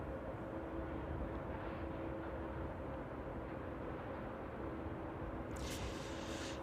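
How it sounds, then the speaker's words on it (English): A Boeing 777 airliner passes overhead on approach to East Midlands Airport, a steady, heavy broadband engine roar holding throughout, with a brief brighter hiss near the end. "That 777 just passing over"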